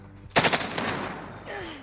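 Gunfire in Warzone, a rapid burst of roughly four close, loud shots followed by a decaying tail, with faint game sounds afterward.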